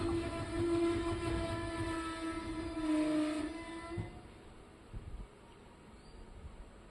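A train pulls into platform three at Kengeri station, with a steady rumble and a whining tone that fades away after about four seconds, followed by a few quieter knocks.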